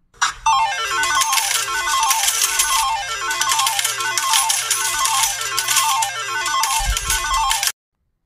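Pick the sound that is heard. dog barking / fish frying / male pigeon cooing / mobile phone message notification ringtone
mobile phone message notification ringtone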